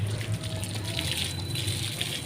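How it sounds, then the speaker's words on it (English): A steady rush of water spraying continuously, like a hose running nearby, with no pauses, as a freshly planted lawn repair patch is watered. "After planting, water the area thoroughly."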